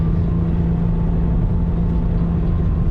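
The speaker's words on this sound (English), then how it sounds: "You can hear that little engine screaming for mercy." A small Toyota 86 engine revs hard and steadily while the car corners, a loud, continuous drone with a strong low hum and no talking.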